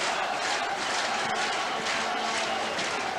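Large crowd noise from a packed football stadium at Olympic Park during a 1994-95 NSL preliminary final, Melbourne Knights against South Melbourne, a steady roar with surges of shouting throughout, without a break.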